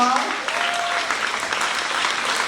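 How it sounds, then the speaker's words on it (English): An audience at a school end-of-year ceremony claps steadily in a dense, even round of applause, with a brief voice at the very start before the clapping carries on alone. "So let's give Ms. Bradham a round of applause."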